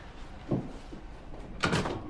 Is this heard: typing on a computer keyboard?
no